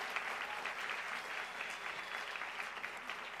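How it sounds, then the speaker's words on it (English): Sustained applause from a nursing graduation audience honoring full-time and adjunct nursing faculty, an even, continuous patter of many hands heard at a moderate distance and fairly quiet. "Give a round of applause for them."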